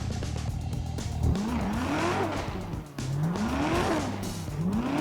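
Muscle car on enormous oversized wheels in GTA 5 roars at high revs with sweeping gear-change pitch climbs and tire squeal, loud and continuous with no talk over it.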